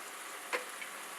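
Food frying in olive oil, a steady soft sizzle with a couple of small pops, heard alone without talk.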